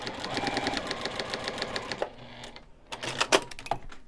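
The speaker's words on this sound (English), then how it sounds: "I'm going to put a very large stitch on the machine, and I'm just going to sew through the middle" A sewing machine runs a long basting stitch through a fabric coaster with batting, a steady rapid mechanical chatter for about two seconds, then stops, followed by a few clicks and handling knocks.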